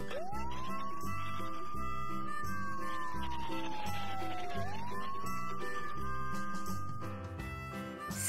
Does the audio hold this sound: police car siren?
yes